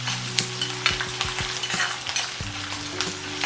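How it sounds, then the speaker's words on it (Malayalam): Green chillies and ginger frying in oil in a pan, a dense steady sizzle with a few sharp stirring scrapes and clicks, close and loud, no speech. "നല്ലോണം ഒന്ന് മൂത്ത് വരുന്ന വരെ ഒന്ന് ഇളക്കി കൊടുക്കുക"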